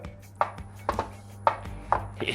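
Five sharp chef's knife chops on a cutting board, evenly spaced and close, with quiet pauses between strokes.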